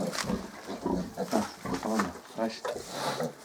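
A mini pig on a small pig farm grunts and squeals up close in repeated short bursts. People talk over the animal sounds.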